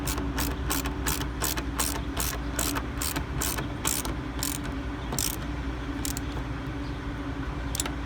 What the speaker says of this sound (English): handy dandy mini ratchet set back on there and tighten away